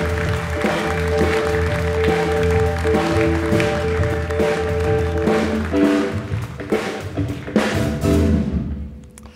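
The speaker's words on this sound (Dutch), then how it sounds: "Dames en heren, een hartelijk applaus voor Jan-Jaap Oerlemans" Audience applause greeting a guest on a tech-themed late-night talk show, a sustained wash of clapping over a steady music bed that swells and then fades out toward the end.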